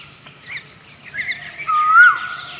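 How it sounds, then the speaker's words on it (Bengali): An Asian koel calls on a foggy morning near a home. Faint chirps lead into a clear, rising whistled note, heard alone against a quiet background. "কি কোকিল ডাকছে বাবা"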